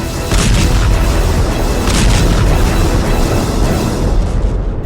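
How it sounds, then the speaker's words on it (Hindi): A loud, sustained rumbling blast from a Russian Shahed drone strike in Ukraine, with heavy low-end roar, rolling on for several seconds with no voices. "एक जोरदार धमाका और लंबी खामोशी"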